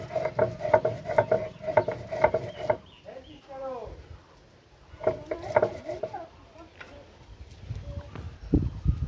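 Spices are ground by hand in a steady rhythm of knocking, scraping strokes that pause while someone speaks, then start again briefly.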